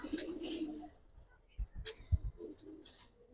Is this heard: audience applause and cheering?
no